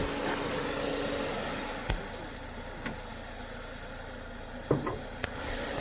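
A 2022 XL6 smart hybrid car idles with its bonnet open, producing a steady low mechanical hum heard close up, broken by a few sharp clicks and knocks.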